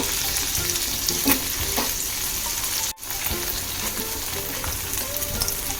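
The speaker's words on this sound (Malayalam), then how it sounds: "അതിലേക്ക് നമ്മൾ തയ്യാറാക്കി വെച്ചിട്ടുള്ള ബണ്ണൊന്ന് ഇട്ട് കൊടുക്കാം" Pav buns sizzling as they toast in a hot pan for pav bhaji, a steady crackling fry with occasional scraping stirs and a brief dip partway through.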